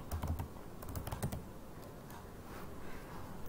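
Password keys tapped on a computer keyboard while logging in to a Windows Server 2016 virtual machine on Microsoft Azure, a quick run of close, light clicks in two bursts, then softer scattered taps.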